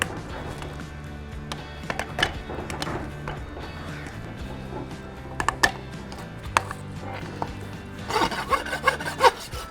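A farrier rasps a horse's hoof, giving rough scraping strokes in uneven rhythm with some sharper knocks, growing busier and louder toward the end, close by and with no talking.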